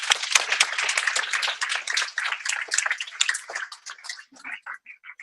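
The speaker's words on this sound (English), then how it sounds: "A round of applause for all the Grace Hopper students." A small audience at a Grace Hopper coding school student project showcase claps in dense, close applause that thins out into a few scattered final claps.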